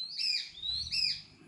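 Besra sparrowhawk calling, two clear high whistled chirps close to the microphone, short and sharp with a brief pause between, alone without talk.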